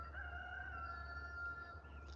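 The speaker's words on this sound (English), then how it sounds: "Listen to the roosters crow." A rooster crows on a farm, one long drawn-out cock-a-doodle-doo heard clearly over a low steady hum, fairly close and alone, with no talking.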